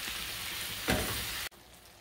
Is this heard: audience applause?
no